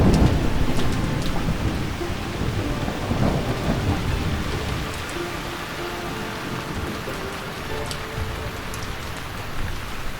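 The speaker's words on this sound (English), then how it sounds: "The overdue rainy season finally arrives." Heavy rain pours steadily across a Taiwanese landscape as the overdue rainy season arrives, with low rumbling thunder rolling underneath and occasional louder drops, continuous and dense with no voices.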